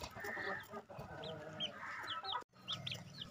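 Backyard chickens cluck and chatter close by in short, repeated bursts at low volume, with no talk over them.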